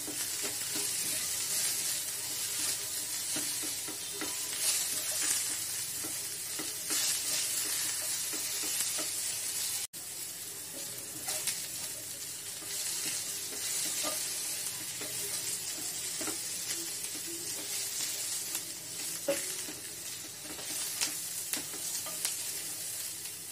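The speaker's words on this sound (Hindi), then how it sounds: "प्याज को थोड़ा सा भूंज लेंगे।" Onion and capsicum sautéing in a pan for a masala paneer pulao, a continuous close sizzle with occasional stirring scrapes over the whole stretch, no voices.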